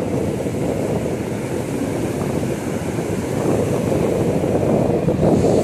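Ocean waves roll onto a beach with constant loud rushing surf and wind buffeting the microphone, a steady wash that builds slightly toward the end with no voices.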